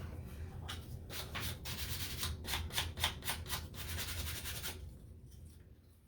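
Steady scratchy rubbing of a sanding block on a surface, a run of quick back-and-forth strokes, close and fairly quiet, easing off near the end.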